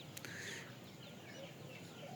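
A domestic country hen with five chicks makes soft, low clucks on a home farm, faint and close amid quiet outdoor background.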